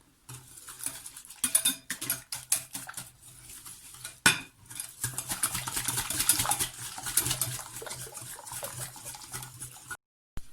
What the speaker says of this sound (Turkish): Daha sonra yumurtalarımı ilave ediyorum. Güzelce çırpıyorum.